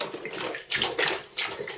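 Water sloshes and splashes in a bathtub in uneven bursts as a dog moves in it, close by and fairly loud, with no voices.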